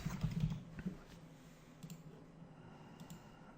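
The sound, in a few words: typing on a computer keyboard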